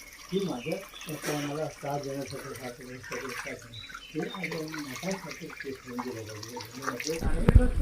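Holy Ganga river water pours and splashes over a head nearby while someone talks over it, with a louder splash near the end, at Dahibaon, Devgad.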